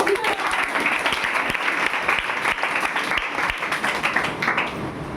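An audience at a quiz competition claps for several seconds, a dense steady patter of many hands at even loudness, without cheering.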